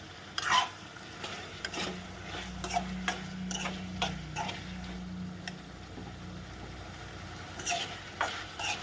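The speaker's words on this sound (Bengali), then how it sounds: "রেডিমেড তরকা মশলা তো আন্দাজ মতো দিয়ে দিচ্ছি তরকা মশলা দিয়ে আবারও নেড়ে দাও" A spoon scrapes and stirs chicken with readymade tarka masala in a pan over medium flame, irregular clinks and scrapes with a faint low hum beneath, no talking.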